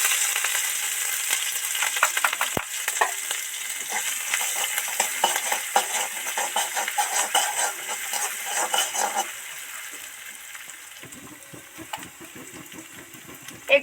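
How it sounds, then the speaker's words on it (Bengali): Ground panch phoron spices, dried red chilli, ginger and grated green chilli sizzle in hot oil in a kadai, a continuous crackling fry with scattered spatula scrapes and clicks, easing to a softer sizzle toward the end. "এই গুঁড়ো পাঁচফোড়ন আর শুকনো লঙ্কাটা এই কড়ার তেলের মধ্যে ছেড়ে দিচ্ছি"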